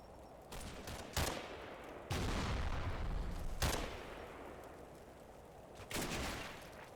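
Gunfire in the Combat Mission wargame, a WWII battle at Mondrainville: several loud bursts of machine gun fire and sharp reports, each followed by a long rolling echo, spread across a few seconds with no talking.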